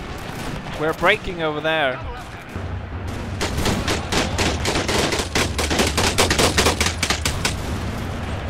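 Rifle volley fire at the Battle of El Obeid in the Mahdist War crackles in dense, rapid overlapping shots, loud and continuous after a brief shouted voice at the start.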